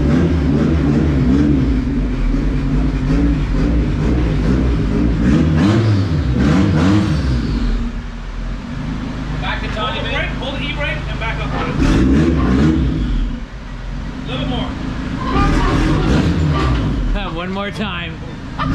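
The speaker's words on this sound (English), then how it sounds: "So it is time for the Racer Civic to get dynoed." A Honda Civic race car engine revs on a front-wheel-drive dyno, rising and falling in repeated pulls with a loud, rough drone. People talk over and between the runs.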